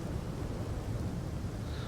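A bilious storm rumbles on an alien planet in No Man's Sky, a low continuous roar of thunder and wind with no distinct claps.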